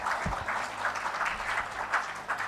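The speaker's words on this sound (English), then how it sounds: "Welcome means we'll have to clap for them, please." Audience at a global project management symposium applauding as speakers come on stage, a sustained crowd clapping at moderate level with a few low thumps near the start.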